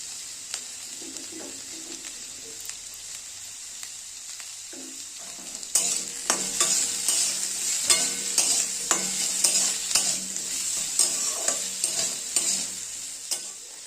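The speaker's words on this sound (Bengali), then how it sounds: "করে আবারও নাড়িয়ে চাড়িয়ে কিছুক্ষণ আর একটু ভেজে নেব।" Vegetables seasoned with salt, turmeric, coriander and cumin powder are stirred and fried in a pan, with a steady sizzle and repeated scraping strokes of a spatula that grow louder and busier partway through.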